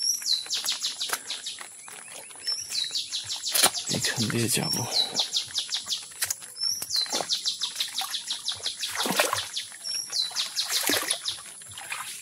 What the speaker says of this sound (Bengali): সকালবেলা বনের মধ্যে নানা রকম পাখির ডাক শুনতে পাচ্ছি।